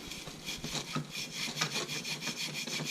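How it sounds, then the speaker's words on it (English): Steady back-and-forth scrubbing of a fuel sending unit from a Nissan 240SX gas tank, a rasping brush-on-metal rub repeating in quick strokes at close range, with no talking over it. "I don't want to just be quiet here and scrubbing away and cleaning."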